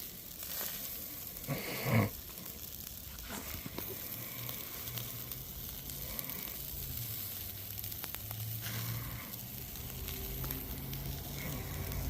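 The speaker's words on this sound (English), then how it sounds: "hear that nice sizzle" Riblets sizzle on an Even Embers suitcase grill outdoors, a quiet, continuous frying crackle and hiss with occasional small pops and a brief louder flare near the start.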